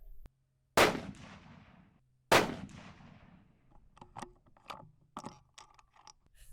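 Two loud, sharp rifle shots from an Aero Precision Solus in 6.5 Creedmoor, each with a long decaying echo, followed by quieter clicks and metallic handling noises of the bolt.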